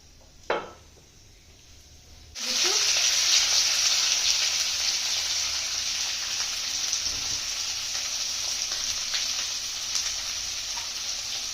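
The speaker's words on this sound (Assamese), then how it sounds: "কেৰাহীখন গৰম হৈছে, এতিয়া মই মিঠাতেল দি লৈছোঁ" After a quiet moment and a brief clatter, chicken hits hot mustard oil in a wok and bursts into a loud, sustained sizzle that carries on steadily to the end.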